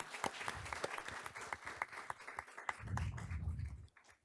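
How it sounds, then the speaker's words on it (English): Indoor audience at a school district board meeting claps for a police color guard, steady close applause with a few distinct sharp claps, swelling briefly before fading. "Would you please give them a round of applause?"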